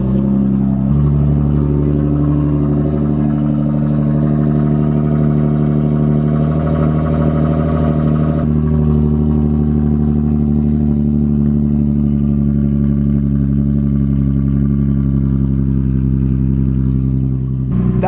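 An Infiniti G37 engine with a modified aftermarket exhaust runs steadily at close range, a loud, deep, continuous rumble with a slight shift in tone partway through and no talking.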